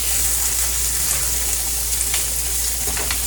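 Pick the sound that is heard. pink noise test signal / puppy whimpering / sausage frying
sausage frying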